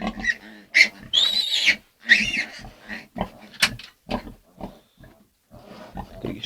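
A pig grunts and squeals in close, irregular bursts, some shrill and drawn out and others short and snorting, with a person briefly speaking nearby.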